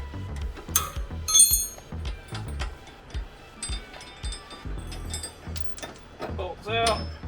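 A wrench ratchets on bolts of a G37 convertible's suspension, giving irregular clicks and metallic taps close by, with bursts of clatter and someone talking in between.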